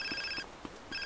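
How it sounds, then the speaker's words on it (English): In-game phone in GTA San Andreas rings with a bright electronic trill, two bursts separated by a short gap, steady and fairly clear with no talk over it. "we've got a phone call here"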